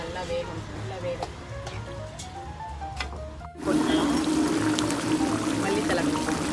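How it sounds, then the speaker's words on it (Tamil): Water pours into a pot of mushroom and peas gravy, a steady splashing fill that starts abruptly partway through and keeps going, with a voice talking quietly before it. "தண்ணி ஊற்றியாச்சு. கொஞ்சம் நல்லா வேகணும்."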